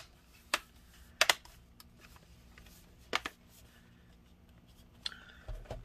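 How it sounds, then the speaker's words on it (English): Plastic clips on a Dell Inspiron 5570 laptop case snap into place, a handful of sharp, close clicks spaced irregularly, some in quick pairs, over a quiet background with faint handling noise. "Now we're just clipping everything back in place."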